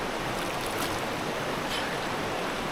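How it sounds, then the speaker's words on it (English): Steady broadband water noise of splashing and running water while washing a face in Ghazni, Afghanistan, close by, continuous and fairly loud with no talking. "I'm gonna wash my face."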